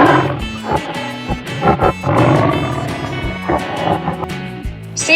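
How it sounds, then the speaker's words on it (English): A tiger roars loudly and close, with several deep, rumbling growling bursts that swell and break over about five seconds, with no voices. "Tiger."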